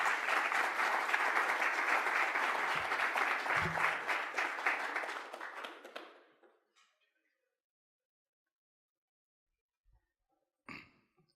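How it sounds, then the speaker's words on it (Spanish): Audience applause at a sports forum in Panama, a dense sustained round of clapping that gradually thins and dies out after about six seconds, followed by near silence with a couple of faint knocks. "Un fuerte aplauso."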